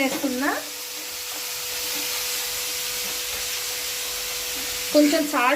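Cauliflower (gobi) frying with salt in a pan gives a steady, close hiss of sizzling that runs under the whole stretch, with a voice speaking briefly at the start and again near the end.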